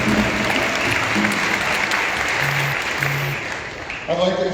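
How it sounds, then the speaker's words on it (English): A crowd at an outdoor Missing and Murdered Indigenous Relatives march in Minneapolis gives a round of applause, sustained clapping mixed with cheering voices and some speech, fading slightly before a brief resurgence. "One more round of applause, please."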